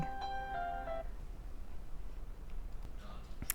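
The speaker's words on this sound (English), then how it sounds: "phone rang" A phone ringing, a short tonal electronic ring near the start that stops after about a second, followed by faint room noise and soft shuffling.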